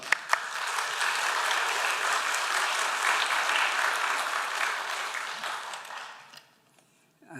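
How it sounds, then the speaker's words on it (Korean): A Sunday morning worship congregation gives a big round of applause to welcome the pastor, thick, even clapping from many hands that holds steady, then fades out over the last second. "나오실 때 큰 박수로 환영하겠습니다"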